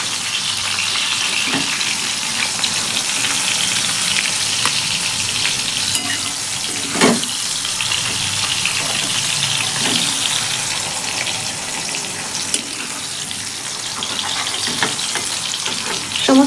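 Green beans fry in hot mustard oil in a pan, a steady close crackling sizzle with occasional louder pops and the scrape of stirring, no voices.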